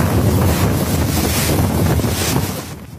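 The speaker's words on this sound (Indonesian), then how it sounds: "hujan deras dan angin puting beliung tersebut tampak menerjang apa saja yang ada di dua desa itu" Tornado winds batter the microphone over heavy rain in two villages in Bondowoso, East Java, a loud gusting roar that fades near the end, with no voices.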